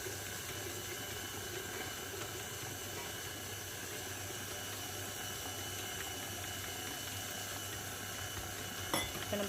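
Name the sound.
mixer kneading chapati dough with water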